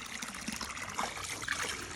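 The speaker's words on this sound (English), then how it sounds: "That's gonna fill my water bottle up so fast." Spring water on a trail gushes into a water bottle, a steady close splashing and trickling wash that runs through the whole moment without talk.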